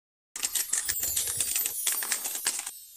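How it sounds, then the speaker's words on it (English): Playing cards cascade in a waterfall shuffle, producing a dense, rapid flutter of small clicks that runs steadily for about two and a half seconds, close and fairly loud. "if I wanted to do a waterfall shuffle"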